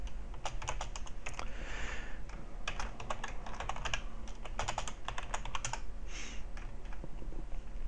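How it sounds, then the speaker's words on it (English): Fast, uneven typing on a computer keyboard while entering C++ Qt code, with bursts of clicky keystrokes and short pauses, close and clear with no talking. "Wow, I cannot type."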